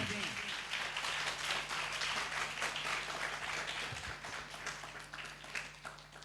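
A church congregation at a Friday worship meeting claps loudly and steadily, a dense, continuous patter of many hands with voices talking over it.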